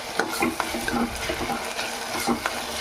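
A ladle stirs chicken curry in a pan, scraping in quick repeated strokes over a soft sizzle, close and fairly loud with no talking.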